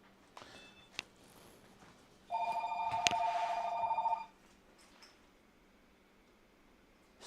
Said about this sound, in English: Of course the phone rings, that's fine.